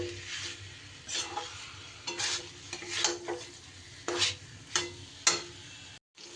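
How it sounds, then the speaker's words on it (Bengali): A spoon stirs and scrapes through potatoes and pointed gourd frying in spices in a pan, with a soft sizzle under irregular, close scraping strokes and a brief drop to silence near the end. "আলু আর পটল খুব ভালো করে আমি মিশিয়ে আরও মিনিট দুয়েক আমি কষিয়ে নেব মশলার সাথে"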